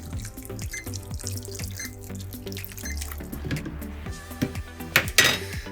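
Water poured and stirred into a cloud slime mixture in a container, with wet drips, sloshing and clinks of a utensil against the container, a brighter splashy burst near the end.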